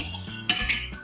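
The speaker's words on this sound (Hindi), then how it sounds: "हम पहले क्रीम को थोड़ा सा मिक्स कर लेंगे" A spoon stirs cream in a bowl, making a few brief, close metallic clinks and scrapes against the dish.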